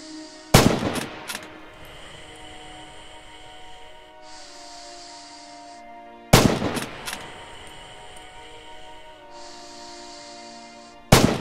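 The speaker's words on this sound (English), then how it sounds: "Open fire at the targets again." Gunfire at practice targets during weapons training in the video game Rising Storm: three loud sharp shot bursts spaced about five seconds apart, each with a short echoing tail over a steady ambient background.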